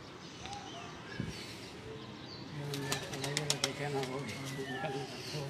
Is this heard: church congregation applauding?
no